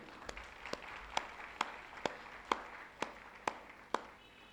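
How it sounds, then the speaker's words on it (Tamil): A congregation at a joint Christmas worship service of three churches gives about ten slow, evenly spaced claps, faint and sharp, with no talk over them. "அதை கைத்தட்டி நாம் இறைவனுக்கு நன்றி சொல்வோம்."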